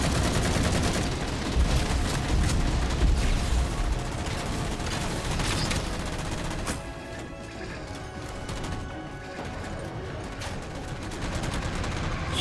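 Turrets in Halo 4 firing on a large circular target, a dense, continuous roar of rapid gunfire and crashing impacts that eases a little partway through and then builds again, with no speech.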